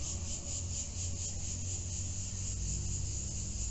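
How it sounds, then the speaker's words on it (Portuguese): Cicadas drone in a steady, unbroken hiss through a park-like area with mulberry trees, soft and distant, with no voices. "Tem muita cigarra, muito passarinho."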